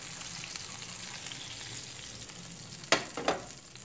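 Orange juice and chicken broth go into a hot pan for a pork loin sauce with plums and chipotle, and a steady, faint sizzle rises to two sharp hissing bursts near the end as the liquid hits.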